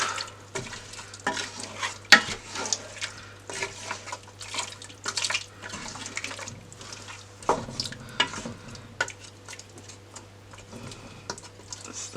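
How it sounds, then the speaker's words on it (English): Seasoned oxtails being stirred in a pot with all-purpose seasoning, giving repeated wet scraping and sloshing strokes, close and fairly loud, over a steady low hum. "I'm going to stir that up."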